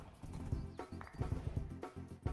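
Horse hooves clip-clop in the Minecraft TerrafirmaGreg modpack, a series of quiet, uneven, thudding steps against a faint background hum.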